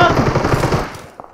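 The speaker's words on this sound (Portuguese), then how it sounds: "Cara dando tiro lá atrás." Rapid automatic gunfire in the mobile battle royale game PUBG Mobile rattles off in a fast burst of shots that fades out, followed by a single sharp report.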